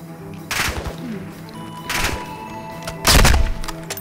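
Three bursts of gunfire from Call of Duty Warzone DMZ, each a sharp, booming volley, spaced over a few seconds, with the last one the loudest and closest.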